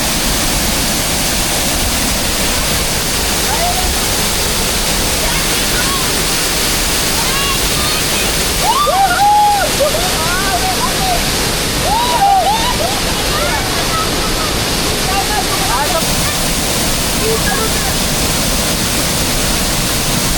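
Tangadan Falls waterfall roars as a steady, loud broadband rush of falling water throughout, with faint voices briefly audible over it.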